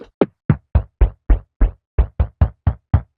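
A synthesized kick drum with a short pitch bend repeats about twelve times at a steady, quick pulse. Each hit is a dry, punchy thump that drops in pitch and decays fast. It is heard alone, close and clean.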